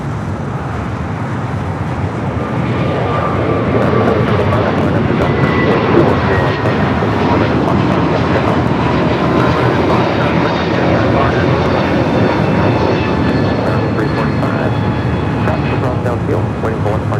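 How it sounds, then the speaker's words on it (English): An Airbus A321neo takes off from Los Angeles International Airport, its engines producing a loud, steady, broadband roar that holds for the whole stretch without fading. "the A321neo heading to Chicago O'Hare up next for takeoff"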